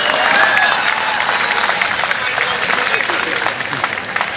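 Audience applause at a youth festival, a dense continuous wash of clapping from a crowd that stays steady and loud throughout, with voices mixed in.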